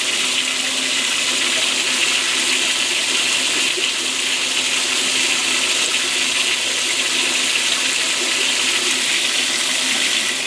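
A farmer-built 2.5 kW Pelton hydro turbine is running unloaded, its water jets blasting out the back. The result is a loud, steady rushing roar of water that stays constant for about ten seconds, with no voices.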